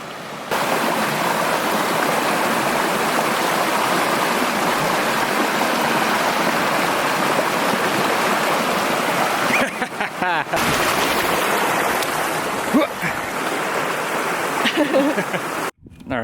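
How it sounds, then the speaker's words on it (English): Creek water flows toward a waterfall in a loud, constant rushing roar that fills the whole stretch, with people talking faintly underneath and a few brief handling bumps near the end. "to keep you from ending up in this pool and then over the waterfall"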